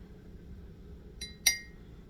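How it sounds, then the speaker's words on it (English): A glass cup is handled before washing, giving a faint light tap and then a single bright clink in a quiet room. "So I'm holding this glass, getting ready to wash it."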